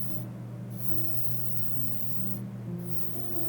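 A lacquer-based grey primer hisses from a spray can onto a resin model car wheel in two sustained close bursts, separated by a short pause, with no speech.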